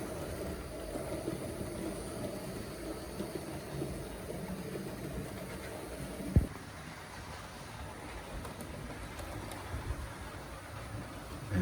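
A Brawa model steam locomotive, wartime streamlined style, runs along a model railway track with a soft continuous rumble, a single sharp click midway and faint clatter later.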